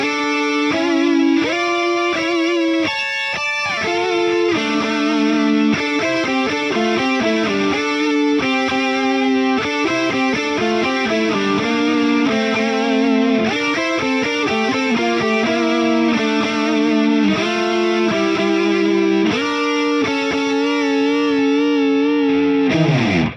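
Two distorted electric guitars play a song together, one holding thick chords while the other picks a busy melodic line, loud and continuous throughout.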